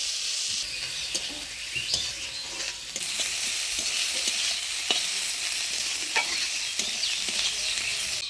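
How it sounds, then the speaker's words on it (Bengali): Dried fish sizzles in a pan with onion, green chili and crushed garlic, a close, continuous frying hiss broken by repeated clacks of a utensil stirring, with faint bird calls in the background. "শুটকি মাছটা ভালো করে ভাজা ভাজা করে নিলাম পেঁয়াজ, লঙ্কা, রসুন দিয়ে"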